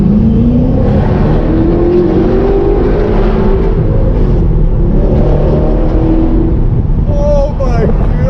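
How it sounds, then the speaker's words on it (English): Straight-piped 2006 Ford GT in sport mode driving through a tunnel, a loud sustained engine drone rising in pitch as it accelerates, booming and reverberant, with voices exclaiming near the end. "Put it in sport so you can hear the exhaust better."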